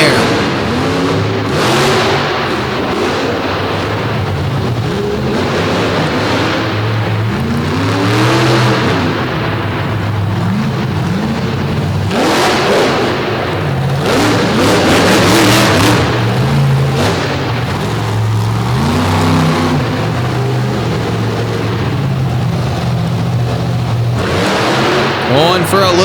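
Monster truck engines roar and rev during a freestyle show run at the DuQuoin event, loud and sustained with repeated rising and falling surges, while an announcer talks over the noise.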